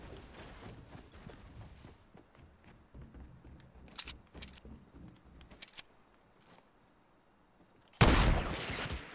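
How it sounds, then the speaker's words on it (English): Gunfire in the video game Fortnite during a Solo Showdown match: muffled rumbling action, then a few crisp sharp reports in the middle, and a loud burst near the end. "I hit him. I sniped that guy"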